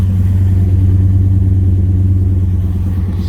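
A 2000 Ford Excursion SUV engine runs steadily nearby with a deep, smooth low rumble and no drone, staying even and alone throughout.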